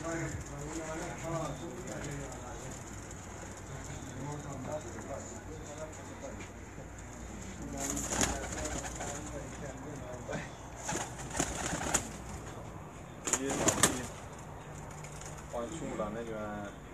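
At a pigeon-flying championship in Punjab, pigeons coo softly and repeatedly nearby, their low rolling calls recurring throughout. Someone talks over them, and brief louder bursts of rustling and handling noise break in.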